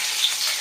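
Curry leaves crackle and sizzle in hot oil, a steady bright hiss with a small pop near the middle, short and unbroken with no voices.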